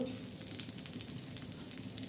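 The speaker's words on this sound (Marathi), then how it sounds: "तव्यामध्ये आता फोडणीला थोडेसे जिरे टाकणार आहोत" Cumin seeds sizzle in hot oil on a tawa, a dense crackling fry with fine popping spatters, loud and continuous with no voices over it.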